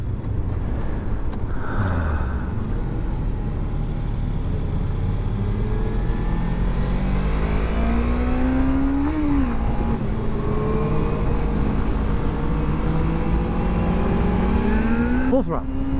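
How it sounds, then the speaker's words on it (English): A 2023 Suzuki GSX-250R motorcycle engine roars and revs at full throttle in rising sweeps, pitch climbing as it is pushed hard, with a brief drop and surge near the end. "Full throttle. Full throttle."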